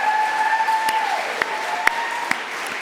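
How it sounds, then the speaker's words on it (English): An audience at a national science communication final applauds the finalists, a dense, steady wash of clapping with a few sharper claps standing out, continuing throughout. "Let's give them all a big round of applause."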